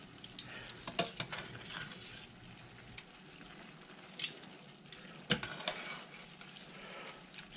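Metal tongs tossing linguine and freshly dug clams in a spicy sauce in a pan, giving scattered clinks and scrapes over a soft sizzle, with sharper clatters around the second and fifth seconds.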